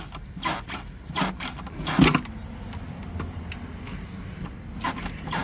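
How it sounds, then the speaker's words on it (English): Prying the valve cover loose on a 2018 Dodge Journey 2.4L engine brings scattered close metallic clicks, scrapes and creaks at an uneven pace, with one louder knock partway through. "the valve cover is slowly breaking itself loose"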